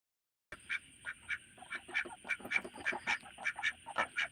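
A group of ducks sitting together quack in a quick, repeated series of nasal calls, fairly close and moderately loud, with no talking.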